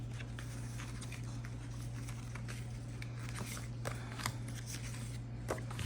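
Paper and stickers shuffled and rustled by hand while rummaging through a big craft stash of junk-journal embellishments, a steady soft crinkling with occasional sharper crackles over a constant low hum.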